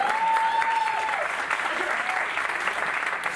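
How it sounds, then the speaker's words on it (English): Audience applause, a steady, fairly loud crowd clapping throughout, with a sustained whistle-like tone at the start and faint voices mixed in. "I think that deserves an applause."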